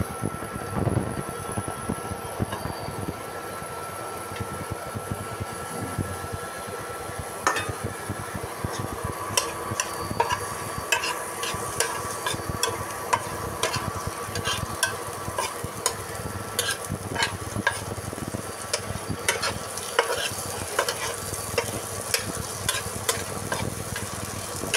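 Chopped onions fry in hot mustard oil with a steady, close sizzle, broken by frequent spoon-stirring scrapes and light clinks against the pan, with no talking.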